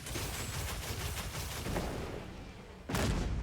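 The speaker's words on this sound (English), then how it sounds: "Now let's do a wyvern fire after a wyvern stake cannon." A gunlance in the Monster Hunter Wilds game fires its wyvern fire after a wyvern stake cannon: a rapid stream of crackling blasts gives way to one loud explosive burst near the end.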